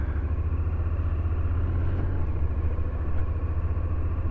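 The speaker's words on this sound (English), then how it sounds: "honest ride review on the way home on the 2023 Honda Nc750 DCT" A 2023 Honda NC750X DCT motorcycle engine running steadily while riding home through fairly busy traffic, a continuous low rumble with wind and road noise, loud and even throughout.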